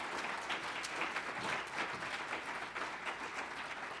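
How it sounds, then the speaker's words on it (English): Applause from a forum audience, a steady wash of clapping hands that holds at an even level throughout, fairly distant and without any voices over it. "And now you can give your applause"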